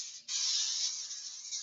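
Cavity wax hisses from an aerosol can onto a car part, one continuous bright spray burst after a short pause, close and steady.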